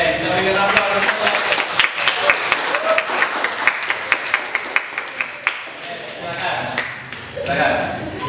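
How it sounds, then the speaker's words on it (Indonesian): A classroom audience applauds after a presentation, a burst of scattered claps that thins into sparse, distinct hand claps before trailing off, with voices murmuring underneath. "Oke, kita berikan aplaus."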